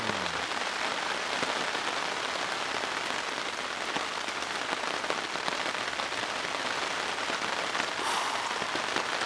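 Steady rain patters on a plastic sheet at a woodland camp, a dense continuous drumming of drops with no voices, holding an even loudness throughout.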